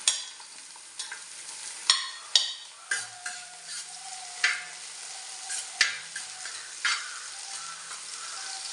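Carrots and capsicum stir-fried over a high flame for fried rice, a steady bright sizzle punctuated by regular sharp spatula scrapes and knocks against the pan, close up with no talk.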